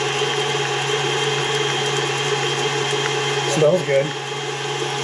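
An electric mixer whisk beats butter for a holiday fruit cake, a steady close mechanical whir holding level throughout, with a brief spoken remark near the end.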